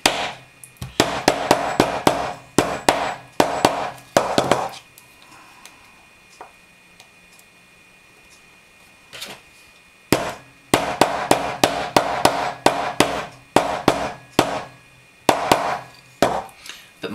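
Rapid bursts of sharp hammer blows on leather while making a knife sheath, a quiet pause in the middle, then another run of steady strikes, close and fairly loud.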